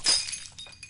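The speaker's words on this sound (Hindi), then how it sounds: "अरे गिलास फूट गया।" A drinking glass breaks with a sharp, bright crash, then a few scattered tinkling fragments settle over the following moment, close and fairly loud, with no speech.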